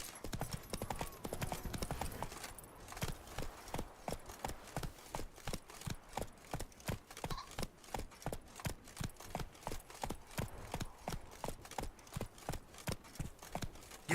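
Horse hooves gallop in a steady, rapid clip-clop rhythm through The Witcher 3: Blood and Wine, loud and close, with a brief whinny and a rider's shout near the start.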